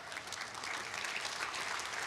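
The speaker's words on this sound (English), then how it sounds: "I was going to tell you to hold your applause, but I know that won't work." An audience at a 2022 commencement ceremony keeps up steady, continuous clapping. It sounds fairly distant and moderately soft, with no break for the whole stretch.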